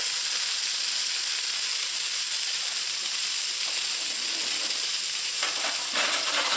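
Steady, dense sizzling of a puffball mushroom burger frying in a pan on the stove, a continuous loud hiss with faint crackles throughout and no talking.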